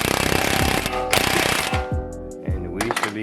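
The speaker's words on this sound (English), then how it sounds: "once you got the axle on, just hammer that bad boy in" Sharp metallic hammer blows drive an axle into a Toyota GR Supra, a quick rattling burst at the start followed by a few separate loud impacts with ringing tails, close-up in a garage, no talking.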